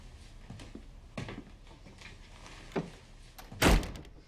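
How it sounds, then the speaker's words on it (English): A single heavy door slam lands sharply near the end, after a few softer thuds and knocks in a quiet room. "When the door is slammed in one scene, it wakes up a person in another scene."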